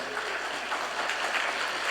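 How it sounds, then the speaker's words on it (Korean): A church congregation at a Sunday service gives warm, steady applause to welcome members as they stand, a continuous wash of many hands clapping from across the hall, with no talk over it. "우리 따뜻한 박수로 환영해 주시기 바랍니다"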